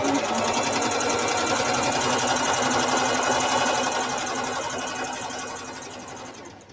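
A sewing machine stitches steadily at a fast, even rhythm, close and loud, holding for several seconds before slowing and fading slightly at the end.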